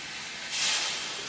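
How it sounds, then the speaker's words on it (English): Water added to a hot pan sends up a soft, steady steam hiss that swells briefly halfway through before settling back, heard alone and close. "so I get a little steam around it."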